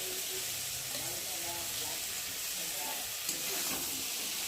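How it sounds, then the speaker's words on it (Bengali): Spice masala sizzling in a pan as fried prawns are sautéed and stirred into it, a dense, even frying hiss heard close and continuous throughout, with faint scraping from stirring. "মশলাটা ভালোভাবে কষিয়ে নেব, আর এর মধ্যেই দিয়ে দেবো ভেজে রাখা চিংড়ি মাছ"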